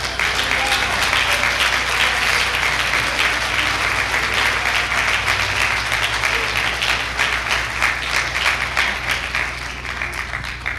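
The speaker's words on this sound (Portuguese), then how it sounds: "Você pode aplaudir o Senhor Jesus." A church congregation claps steadily and loudly without a break, a dense wash of many hands over a low hum, easing slightly toward the end.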